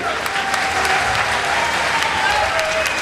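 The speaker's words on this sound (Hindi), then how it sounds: "एक बार तालियां लगना चाहिए" Audience applause fills a Hathras poetry gathering (kavi sammelan), a dense, steady wash of many hands clapping at close range for about three seconds, with no clear speech.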